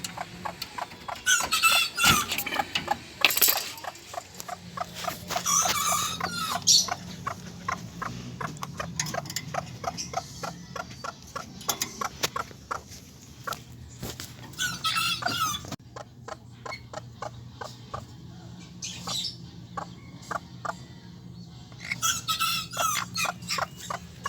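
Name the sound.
Golden Sebright chickens and chicks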